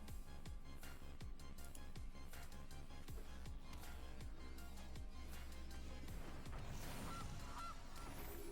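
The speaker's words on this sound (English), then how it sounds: "We got the goose. The goose is loose." Goose honks in the card game MTG Arena, rising from a dense musical game soundtrack with sharp percussive hits, the honking appearing near the end over the continuing music.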